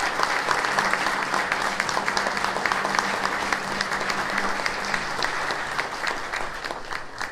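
A church congregation gives strong, sustained applause during a solemn feast Mass for the Virgin of Charity. Steady, fairly soft clapping from many hands continues without a break, with no voices over it.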